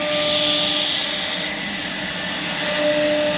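A CNC machine carves a devotional design into teak wood, giving a loud, continuous whine and rushing drone with steady tones that hold throughout at close range.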